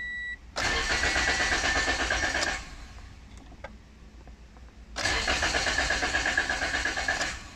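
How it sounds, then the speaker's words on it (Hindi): A Toyota Corolla needing ECU replacement and programming cranks twice without catching, each starter burst a loud, rapid, even churning lasting about two seconds, with a quiet gap between. "आप देख सकते हैं अब गाड़ी स्टार्ट नहीं हो रही है।"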